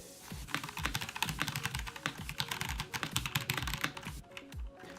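Marvo mechanical keyboard with brown switches under fast, continuous typing, a dense run of crisp close clacks and thocky key bottom-outs, steady and rhythmic with no talking.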